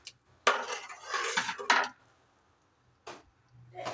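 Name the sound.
ponni rice being mixed in a biryani pot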